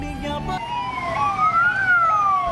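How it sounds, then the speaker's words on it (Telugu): Ambulance siren wailing up and down on a busy road where no one gives way, steady and fairly close over traffic noise. "ఏమి ఈడ అంబులెన్స్ వస్తున్నాను, ఎవరు దారి ఇవ్వడం లేదు."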